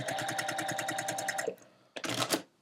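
A sewing machine stitching a seam corner to corner across quilt fabric, a fast, even mechanical whir of needle strokes for about a second and a half, then a pause and a shorter rattling burst, with no talk.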